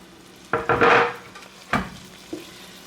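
Chopped garlic hits a hot pan while cooking mussels, giving a burst of loud sizzling and frying with scraping stirs, then quieter sizzle and another short scrape; no talking.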